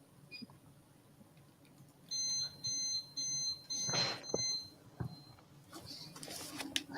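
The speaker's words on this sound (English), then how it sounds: "sounds like his air fryer." A series of short electronic beeps from an air fryer, four or five evenly spaced pulses, moderately loud over quiet room noise, followed by some rustling.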